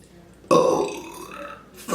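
After a quiet moment, one loud, close burp erupts suddenly and rolls on for over a second, gradually weakening before a brief noise at the end.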